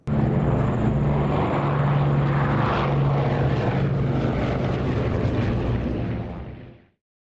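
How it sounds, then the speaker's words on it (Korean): A loud, steady propeller-aircraft drone roars close overhead above Hiroshima in 1945 for about seven seconds with a low engine hum, then cuts off abruptly. "일본 히로시마의 하늘에 은색 비행기가 나타났다."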